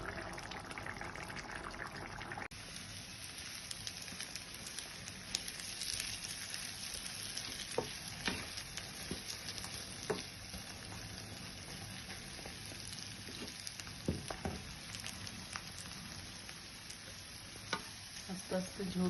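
Kala bhuna beef curry cooking slowly on a low flame, a faint, continuous sizzle and bubbling with scattered soft pops and occasional stirring scrapes, no talk.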